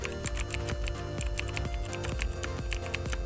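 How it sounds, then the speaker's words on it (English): A computer keyboard tapped repeatedly at a close distance, with sharp clicks of the spacebar and other keys in an even typing rhythm, heard alone without speech. "Just hit the spacebar a couple of times"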